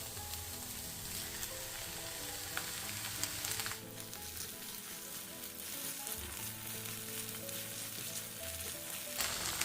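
Red chili paste sizzles steadily in hot oil with green chili and celery for Schezwan sauce, a dense continuous frying hiss with occasional stirring, close and loud, no voices.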